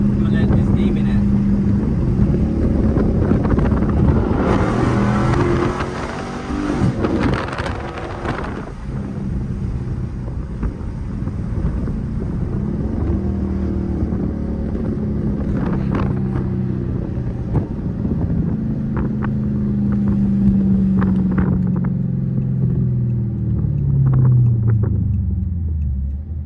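A Chrysler 300 SRT 392 engine roars as the car accelerates and slides, with a loud, deep, continuous rumble that surges and swells, and a voice talking briefly over the engine noise.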